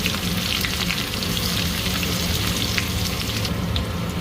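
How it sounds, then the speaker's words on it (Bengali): Cumin seeds and onion hit hot oil with a loud, dense, unbroken sizzle and crackle, heard close up for a few seconds with no talking. "তেলের উপরে জিরে দিয়ে দিলাম, সঙ্গে দিয়ে দেবো পেঁয়াজ"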